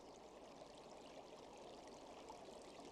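A river flows steadily and faintly as it slows and widens at the foot of a mountain in a jungle. The soft, continuous watery rush has no voices over it.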